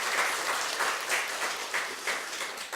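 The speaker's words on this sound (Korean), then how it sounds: "우리 다시 한번 우리 박수로" A church congregation claps together in sustained applause, steady and full for the whole stretch, with no talking over it.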